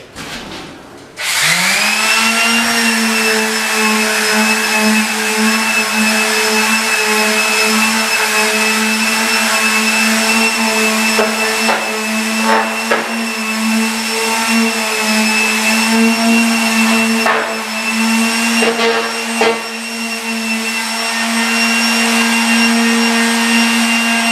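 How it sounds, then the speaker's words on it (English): A power sander works joint compound on a drywall wall corner, running loud and steady with a strong hum and whine from start to finish, with brief dips in tone as it presses against the surface. "So I have sanded that corner now."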